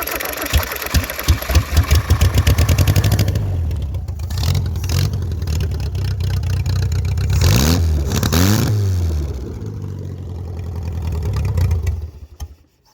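A small engine with fuel in its carburettor is started by touching a starter wire to the positive terminal: it cranks with rapid chugging, catches and runs, revving up and down at close range before cutting off abruptly at the end.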